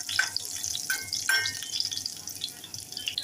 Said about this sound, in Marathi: छान परतून घेऊया. 4-5 पाने कढीपत्ता, 2 बारीक कापलेल्या हिरव्या मिरच्या